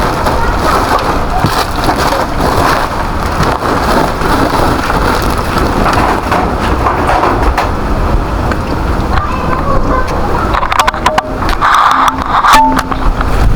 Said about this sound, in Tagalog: Lakas ang ulan, lakas ng hangin.